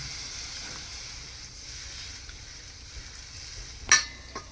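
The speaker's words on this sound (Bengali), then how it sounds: "এইবার আমি এটা জল দিয়ে দেবো বেশি জল দেবো না" Water poured into a pan of shahi paneer masala, made without onion or garlic, sets off a steady low sizzle and frying hiss with faint stirring, ending in a brief sharp splash-like burst near the end.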